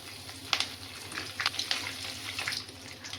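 Curry leaves and red chillies frying in hot oil, giving a soft, steady sizzle with scattered crackles and spits, fairly faint and close.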